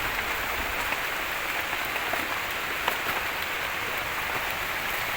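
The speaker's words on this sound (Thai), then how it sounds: "ฝนตกหนักมากเลยนะครับตอนเนี้ย" Heavy rain pours steadily at a forest campsite during a storm, a dense, even hiss of drops drumming on surfaces close by, with no talk.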